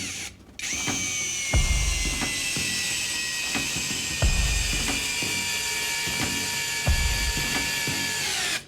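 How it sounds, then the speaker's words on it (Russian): Rokodil cordless drill driving a 200 mm screw into wood, a steady high motor whine running for about eight seconds, punctuated by several heavy thumping clunks as the long screw bites in, close and loud. "200-миллиметровый шуруп закрутил легко"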